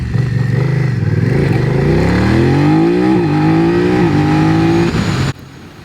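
A BMW F 900 R motorcycle engine revved through its large twin air intakes: a loud, close, breathy roar that climbs steadily in pitch, holds high, then cuts off abruptly near the end.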